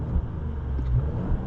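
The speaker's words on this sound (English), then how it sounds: "Car sounds really good" A 2020 Maserati Levante GranLusso SUV drives along, its engine giving a steady low rumble heard from inside the cabin with no talking.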